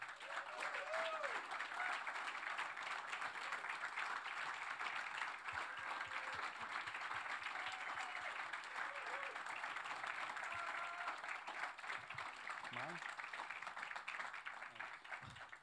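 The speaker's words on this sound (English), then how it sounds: "please, a warm round of applause for the one and only" A live audience at the Grammy Museum claps steadily as a singer-songwriter is welcomed to the stage. Dense, sustained applause fills the room, and a few voices rise faintly within the crowd noise.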